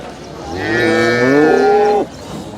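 A single long cow moo, loud and close, rising and holding for about a second and a half before cutting off, at the Sardarnagar cattle market.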